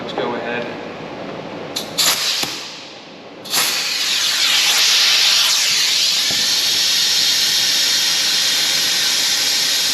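An air-powered vacuum coolant fill tool on a Toyota engine hisses loudly and steadily after a few short bursts. A voice is heard faintly at the start.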